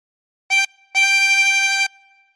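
Two blown notes on hole 13 of a 24-hole tremolo harmonica: a short clipped tone, a brief gap, then a longer sustained one with a shimmering tremolo waver, bright and close, no voices.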